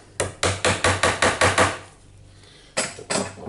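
A bit is hammered into a Hilti TE76 hammer drill. About seven rapid, ringing metallic blows come first, then a short pause and two more strikes, all loud and close with no talking.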